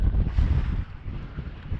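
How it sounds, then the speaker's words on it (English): Wind roaring across a lake and buffeting the microphone on a bass fishing boat, a loud, steady low rumble with gusty swells. "This wind is blowing."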